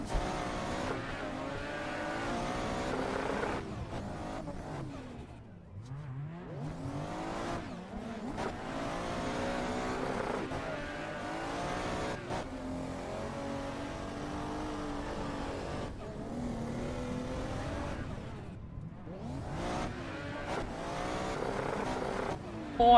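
A rotary-engined Mazda RX-7 FD drifting on a track, its engine revving high and continuously with repeated rises and dips in pitch, tires squealing over the top, loud and sustained.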